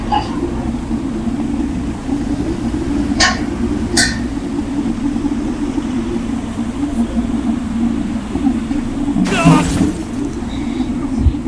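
A motorbike crashes in the video game Japan Postman Moto Simulator: a steady engine drone runs throughout, broken by a couple of brief clicks and then a sudden harsh crash burst near the end.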